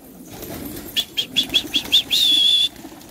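Pigeons take off with a series of sharp, rhythmic wing claps, then a short sustained flutter of flapping wings, close by over quiet background noise.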